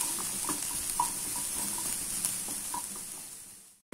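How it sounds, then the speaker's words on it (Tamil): Ginger being stirred and sautéed in oil in a pan while making a spicy ginger pickle: a steady close sizzle with soft scraping stirs and light clinks throughout, cutting off at the end. "எண்ணெய் ஊத்தி நம்ம கொஞ்சம் வதக்கி எடுத்துக்கலாம்."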